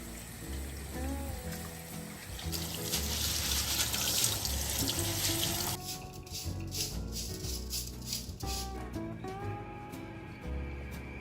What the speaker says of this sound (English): We need to rinse the rice.